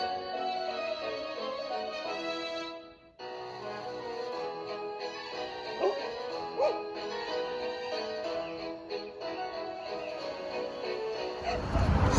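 A dog barks, yips and whimpers again and again at a car wash, fairly close, over a steady background drone that swells louder at the very end.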